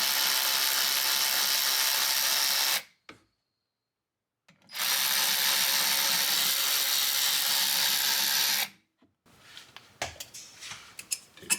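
A power tool loosening caliper mounting bolts during a car brake and rotor replacement gives two loud, sustained whirring bursts separated by a short silence, followed by lighter metallic clinks and handling noises.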